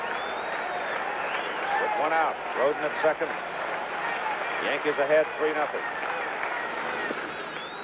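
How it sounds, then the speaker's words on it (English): A baseball stadium crowd during 1977 World Series Game 4, Yankees at Dodgers, rumbles and swells in the background beneath continuous play-by-play commentary, with brief surges of cheering. "Now the crowd starting to build its applause."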